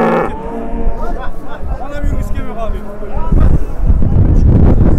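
A cow moos repeatedly at a busy livestock bazaar in Yangiqo'rg'on, the calls rising over steady crowd chatter and voices nearby, with louder mixed noise toward the end.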